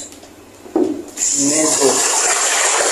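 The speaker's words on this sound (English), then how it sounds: "So then I pour this water a bit out." Hot water poured out of a container while revamping a wig after a conditioning treatment: a brief splash, then a steady hissing stream of liquid running for a couple of seconds, close by, with no talking.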